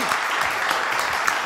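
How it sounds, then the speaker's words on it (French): Audience applause on a French entertainment news show, a brief, dense burst of clapping heard close and steady throughout. "s'il vous plaît, applaudissements"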